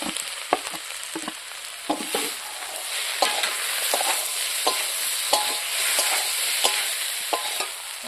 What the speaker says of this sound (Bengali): মটরশুঁটিকে দিয়ে দেই।